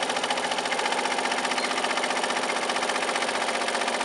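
A HAPPY 12-needle Voyager embroidery machine sews a tack-down stitch through glitter vinyl at about 1,000 stitches per minute, a steady fast mechanical chatter with an even rhythmic pulse, close and constant with no talking.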